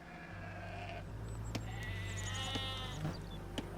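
Sheep bleating in the video game Age of Empires II, several quavering bleats rising over a steady game soundtrack with low drones and occasional clicks, lasting throughout.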